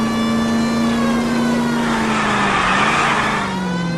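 A car engine drones steadily through a chase in the video game L.A. Noire, with a sustained, slowly shifting whine that swells a little near the end and carries no talk.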